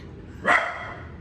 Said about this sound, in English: There's our dog barking at somebody knocking on the door, probably.